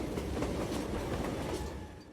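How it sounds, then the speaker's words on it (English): A train in Call of Juarez Gunslinger rushes down its tracks with a steady rumbling roar, and a fast rhythmic clickety-clack of wheels runs through it, loud and close, with no voices. "that train was flying down those tracks like a bat out of hell"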